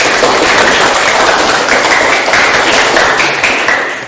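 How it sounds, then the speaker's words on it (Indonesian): Students in a classroom applaud all the presenting groups, a loud, dense burst of many hands clapping that holds steady for about four seconds before easing slightly at the end. "Beri tepuk tangan untuk semua kelompok"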